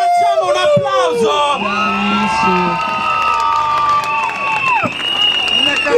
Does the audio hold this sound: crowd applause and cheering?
yes